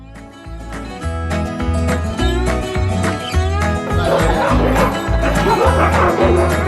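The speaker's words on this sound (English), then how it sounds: "These Alaskan Huskies are bred to thrive in cold temperatures and environments that machines have extreme difficulty in." Alaskan huskies, sled dogs bred for cold in Denali National Park, bark, yip and whine in a loud, overlapping chorus close by, with music or talk faintly beneath.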